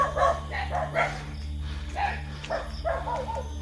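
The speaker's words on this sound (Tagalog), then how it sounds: "Ingay ng mga aso." Dogs bark in irregular bursts at night in the countryside, several voices overlapping at moderate distance, fairly faint, with short pauses between volleys.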